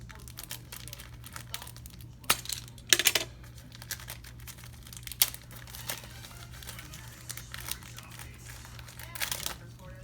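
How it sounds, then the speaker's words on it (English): A taped-up mail package of trading cards is cut open, giving scattered crinkling and short tearing rasps over a low steady hum, close and fairly quiet, with some talking. "It's taped up. Let me cut this."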